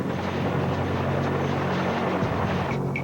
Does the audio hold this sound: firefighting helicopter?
yes